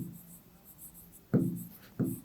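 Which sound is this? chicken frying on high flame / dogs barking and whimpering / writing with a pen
writing with a pen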